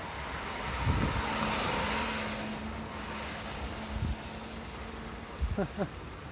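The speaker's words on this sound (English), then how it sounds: "I love the little work trucks that they have here." A small work truck's engine hums past at moderate distance, rising and fading over several seconds, with a few brief knocks and a buzzing insect near the end.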